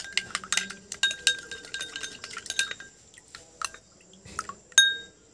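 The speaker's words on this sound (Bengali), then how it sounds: "আমি কর্নফ্লাওয়ার নিয়ে নিচ্ছি, আর এটা ঠান্ডা জলে গুলবো।" Metal spoon clinking against a glass while stirring cornflour into cold water, a run of sharp ringing taps and clinks at irregular pace, close and fairly clear, with one louder clink near the end.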